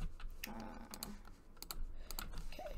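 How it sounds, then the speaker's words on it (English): Rapid, close clicking of a computer keyboard being typed on, mixed with sharp mouse clicks, in irregular bursts throughout the quiet room recording. "Sorry if my mouse and keyboard are really loud."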